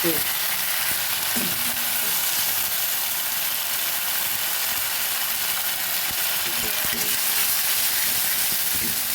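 Chopped onion fries loudly with spices in a pan for a shol fish and potato curry, making a dense continuous close sizzle with faint scraping stirs underneath.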